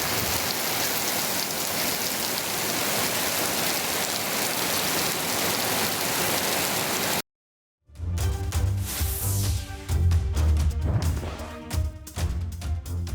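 Heavy rain pours down in a dense, loud, steady hiss of drops on surfaces, cutting out abruptly to silence before other sounds with low tones take over.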